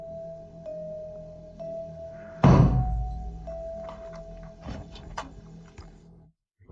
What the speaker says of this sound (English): I just heard a knock upstairs.